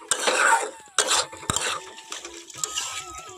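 Onion being stirred while cooking in a pan, with a few quick metal spoon scrapes and clinks against the pan over a faint sizzle, in short uneven bursts and no voices.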